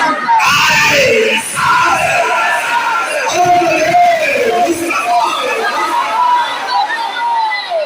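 A large religious gathering shouts back in unison to a Nara-e-Takbir call, a loud massed crowd roar that swells and sustains throughout, with yelling voices blending into one dense wall of sound.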